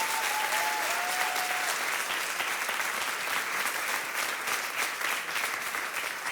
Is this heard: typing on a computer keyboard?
no